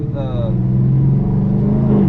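A supercharged Dodge Hellcat rumbles in a low, steady note, loud and close, while someone talks over the start.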